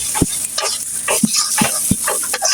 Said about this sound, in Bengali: এরপর এখন নেড়ে চেড়ে মশলাটা কষিয়ে নিব।